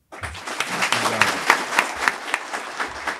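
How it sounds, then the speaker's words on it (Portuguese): Audience at a civil servants' commission session applauds, a short burst of moderately dense clapping with a few distinct louder claps, fairly close and without talk. "Isso eu acho que vocês devem aplaudir."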